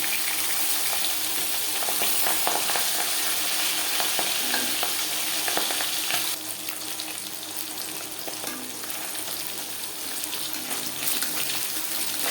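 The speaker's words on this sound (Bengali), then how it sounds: "একটা সাইজ ভাজা হয়ে গেলে অপর সাইডটা উল্টে দেবো" Pabda fish frying in hot oil in a pan, a steady loud sizzle with crackling that holds for the whole stretch and brightens partway through, with no talking.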